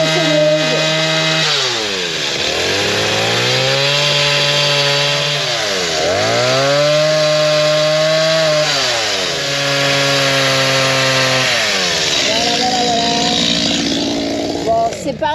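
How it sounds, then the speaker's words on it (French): A chainsaw cuts into a wooden sign, its engine loud and continuous as it revs up and down in repeated swells, with a sudden bog-down and recovery near the end. "Et je viens de le faire à la tronçonneuse."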